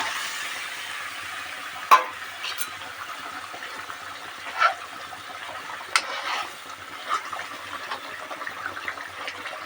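Small tengra fish go into boiling water in a pan, heard as a steady close hiss broken by a few sharp splashes and clicks as pieces drop in, with no voices.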